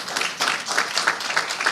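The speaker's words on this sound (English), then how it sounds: "give yourselves a round of applause" Brief burst of crowd applause, many hands clapping together in a dense, steady wash that holds for a couple of seconds.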